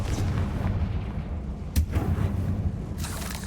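A Confringo blasting spell explodes in Hogwarts Legacy with a deep, rumbling boom and a sharp burst near the middle, set against a steady low game soundscape with no talking.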